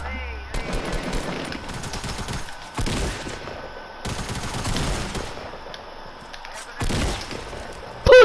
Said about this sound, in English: That's Leo firing a grenade at you.